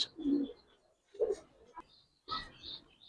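Domestic pigeons coo in soft, low, throaty bursts at a coloring and Giribaz pigeon farm, three calls spaced about a second apart, close and fairly quiet, with faint higher chirps between them.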